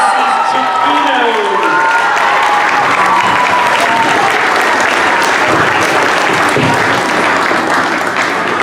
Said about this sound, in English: How about a big round of applause for Mr. Ricky, Mrs. Scala, and Mrs. Chiquino.